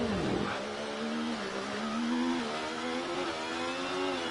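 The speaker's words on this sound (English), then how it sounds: "That Red Bull engine is a powerful one." Red Bull Formula 1 car engine in the racing game F1 24, a steady high-pitched engine whine rising slightly in pitch as it revs, continuous and fairly loud with no talk.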